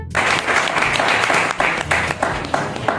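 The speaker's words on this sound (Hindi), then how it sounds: "अब ताली बजाओ मेरे लिए।" Applause fills the whole stretch as a continuous crowd clatter, steady and fairly loud with a few sharper claps standing out.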